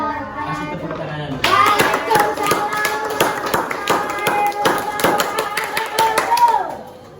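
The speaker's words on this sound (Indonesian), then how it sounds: "Kasih tepuk tangan." Schoolchildren in a third-grade elementary classroom clap together for a classmate group. After a brief voice, a dense, fairly loud burst of hand claps starts close by and keeps up for about six seconds before trailing off.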